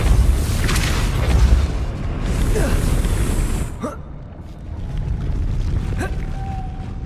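A Depulso spell cast in the Hogwarts Legacy video game: a loud booming magical blast with a swooshing burst, followed by a sharp whoosh and crackling game effects over a rumbling background.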